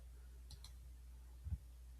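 A computer mouse gives two faint, quick clicks close together, followed a moment later by a soft low thump, all over a quiet room hum.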